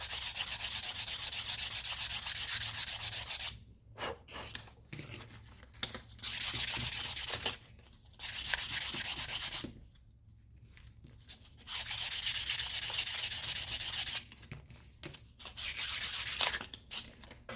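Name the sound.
rubbing off residue from leather bag stitching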